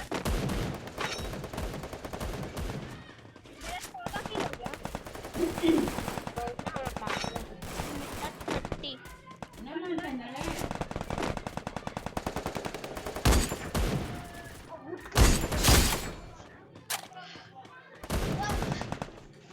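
Rapid gunfire bursts from a shooting video game with sniper play, loud and frequent bursts throughout, some sharp single shots and a few louder blasts, with faint voice in places.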